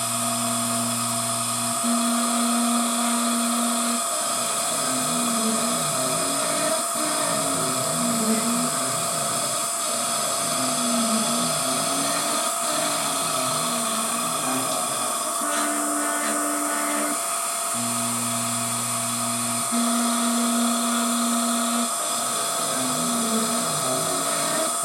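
An Emco F1 CNC machine mills a Kity bed guide block with a continuous whine and stepping motor tones, steady and loud throughout, with a regular rhythm of repeating cutter passes.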